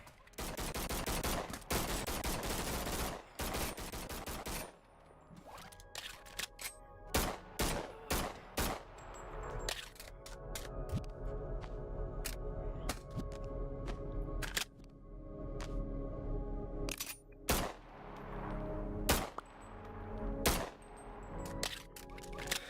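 Rapid gunfire in a VR video game, sharp repeated shots in bursts and single cracks, loud and close, with a faint electronic hum under the quieter stretches.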